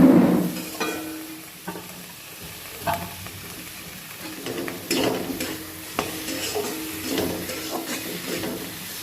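Prawns sautéing in a pan, a continuous close sizzle and hiss broken by irregular spatula scrapes and stirring knocks against the pan, moderately loud, with no talking.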